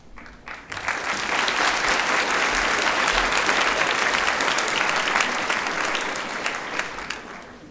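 Sustained, loud audience applause at a school senior prizegiving ceremony, filling a hall as an award presenter walks out, swelling quickly and holding steady for several seconds before tapering slightly.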